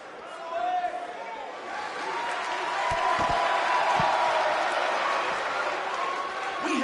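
Crowd noise fills a sold-out wrestling video game arena for a BCW event, a steady broad roar of cheering that swells slightly and holds throughout, with a few dull thuds partway through.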